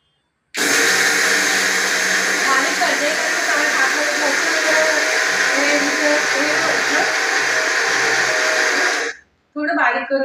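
A mixer grinder grinds semolina (rava) in a kitchen, running as a loud steady whir for about nine seconds, then cutting off before a brief restart.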